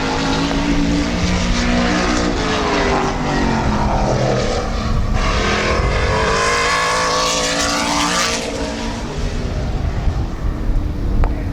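Number 18 race car lapping Midvale Speedway: a loud, continuous engine roar whose pitch rises and falls as the car accelerates and slows through the turns, with other race engines audible in the background.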